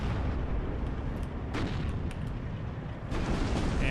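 Battlefield gunfire and artillery rumble in Steel Division 2 as a unit takes hits, a heavy continuous roar with a few sharper cracks rising out of it, at moderate loudness.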